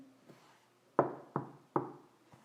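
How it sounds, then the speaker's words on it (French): Three sharp, evenly spaced knocks on a door, close and loud, following a faint softer tap, with one more light tap at the end. "qui frappe à la porte?"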